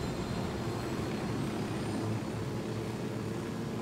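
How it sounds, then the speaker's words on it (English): A helicopter in the video game Ghost Recon Wildlands gives off a steady, loud rotor and engine drone that holds for the whole stretch without any talk. "Don't worry, I got the helicopter."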